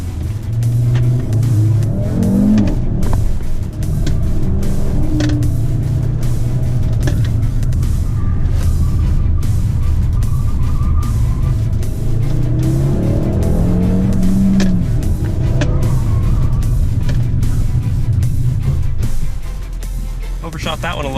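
An Audi RS3 on the Circuit of The Americas race track, its engine droning loudly and continuously with repeated revs rising and falling through the gears, close and dominant, while someone talks over it.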